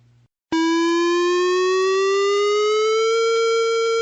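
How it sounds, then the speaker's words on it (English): A loud, steady electronic warning siren at a nuclear power plant starts abruptly after a brief quiet moment, holding a rising wail with strong harmonic overtones throughout. "It is the sound of a warning siren going off at a nuclear power plant"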